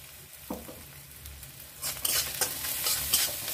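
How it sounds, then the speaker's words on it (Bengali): Spice paste with turmeric and salt frying in a pan, starting quiet with a single stir knock, then bursting into a louder crackling sizzle with repeated scraping strokes. "মশলাটা একটু ভেজে নেব।"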